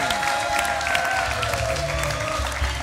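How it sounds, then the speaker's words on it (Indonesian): A studio audience claps during a Malaysian television entertainment show, producing a dense, continuous patter of applause with some crowd noise and tonal music or voices mixed underneath. "Tepukan untuk abang, kita menyokong abang."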